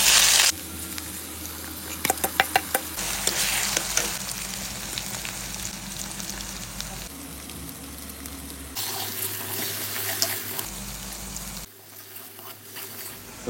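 Spice paste and onion sautéing in a pan for a chicken feet and potato dish, a steady loud sizzle with bursts of scraping and stirring, the frying hiss dropping and rising between stirs; no talking.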